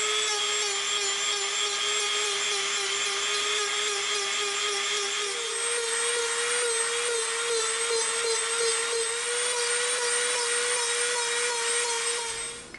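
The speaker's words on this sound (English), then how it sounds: "Now we're gonna come in with our Dremel." A Dremel rotary tool grinding into EVA foam, a high steady whine with a slowly shifting pitch, close and continuous for the whole stretch, no talk.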